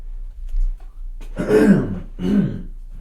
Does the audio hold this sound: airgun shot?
no